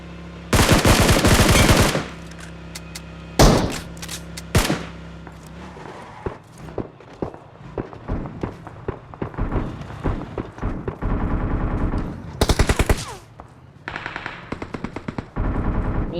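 Gunfire in the BGMI battle royale game: loud bursts of automatic fire and single shots in irregular clusters, some close and sharp, others quieter, with no talk.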